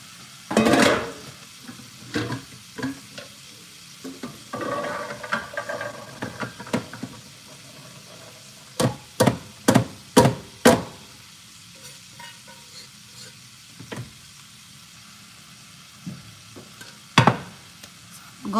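Cooking pots holding black-eyed peas are moved and switched on a stove: a soft sizzle, stirring and scraping, then a run of sharp metallic knocks and clanks from the pots, with a final bump near the end.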